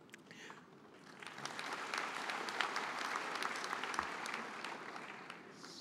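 An audience at a national congress of NGO networks claps in a steady wash of applause that swells and holds for several seconds, heard at a distance and fairly faint.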